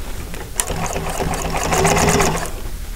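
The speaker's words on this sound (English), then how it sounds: "you can hear too when your sewing machine goes funky" An upholstery sewing machine stitching a boxed T cushion runs steadily at close range, its rapid mechanical whir and clatter intensifying briefly toward the middle before easing off.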